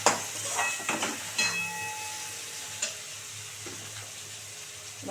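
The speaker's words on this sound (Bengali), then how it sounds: "দিয়ে একটু ভালো করে ভাজা হোক আলুটা।" Potato pieces fry in oil in a pan, a steady soft sizzle broken by a few sharp scraping stirs and clinks of a utensil, close and fairly quiet.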